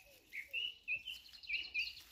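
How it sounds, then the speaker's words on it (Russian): A thrush sings in the morning woods near a birdhouse. It gives a series of short, clear whistled phrases, faint and somewhat distant, with brief pauses between them and no voices over the song. "По-моему, это дрозд."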